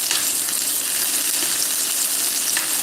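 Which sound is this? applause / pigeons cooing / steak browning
steak browning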